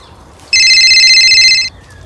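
A telephone rings in a single loud, trilling burst of about a second, standing alone against quiet background.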